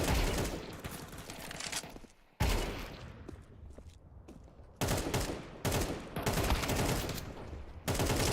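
Video game gunfire: dense, loud bursts of rapid automatic shots in several long strings separated by short pauses, with no talking.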